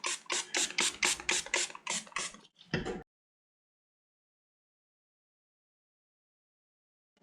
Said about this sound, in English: I'm going to spray that again